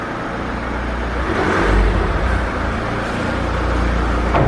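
A Mercedes W211 E 220 CDI diesel car rolls in nearby with a steady engine hum and whirring, swelling briefly around the middle before settling back to a constant drone.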